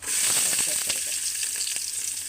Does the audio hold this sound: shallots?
yes